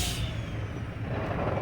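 A semi truck's air brake releases in a sharp hiss as the rig is shut off, followed by a low rumbling wash of engine and broadband noise, close and loud throughout the short moment.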